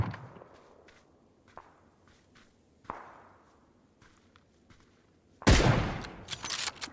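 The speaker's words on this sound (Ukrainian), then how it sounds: "І ззаду хтось стріляв." Gunfire in the video game PUBG: a few sharp isolated cracks spaced a second or more apart, then a louder burst of rapid shots near the end, over quiet background.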